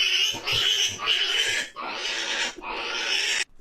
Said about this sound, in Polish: W ogóle co to jest za świnia? Zajebista jest!